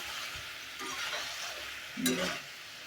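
Hilsa fish curry with eggplant and potato sautéing in a pan, a steady sizzle with stirring scrapes and a louder burst of frying near the end, no talking.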